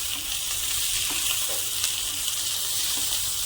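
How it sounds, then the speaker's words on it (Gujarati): Red chili and turmeric being stirred into eggplant olo in hot oil, a steady close sizzle and hiss of frying that runs unbroken throughout, with faint soft stirring scrapes. "હવે આને આ રીતે મિક્સ કરી દઈશું."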